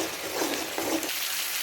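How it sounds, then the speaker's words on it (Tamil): Mint leaves sautéing in hot oil in a pan, a steady close sizzle and frying hiss with light stirring scrapes, no talk. "நல்லா 5 நிமிஷத்துக்கு நம்ம வதக்கினே இருக்கணும்"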